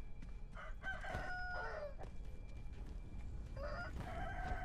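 Chickens in the action game Sekiro cluck and squawk in a few short bursts over a steady low rumble of game ambience, fairly faint with no talk.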